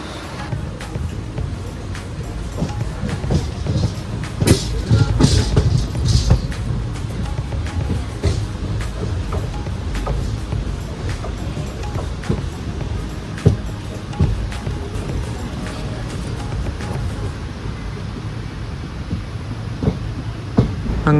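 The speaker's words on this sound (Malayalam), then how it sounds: "കോഴിക്കോട് കണ്ണൂർ പാസഞ്ചർ കണ്ണൂർ ലക്ഷ്യമാക്കി പോയിക്കൊണ്ടിരിക്കുകയാണ്" A Kozhikode–Kannur passenger train running on the line from Thalassery toward Kannur, heard from inside a nearly empty coach: a steady, loud rumble of wheels with scattered clanks and rattles throughout.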